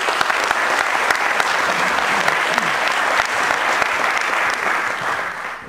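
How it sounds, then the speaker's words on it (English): An audience at a local tech meetup gives a loud, sustained round of applause for the startup FoodCircles, with dense clapping that holds steady and eases off at the end. "Can I get a round of applause for FoodCircles?"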